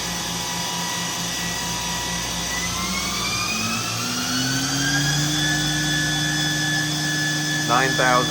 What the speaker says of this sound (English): Spindle is currently running at 2500.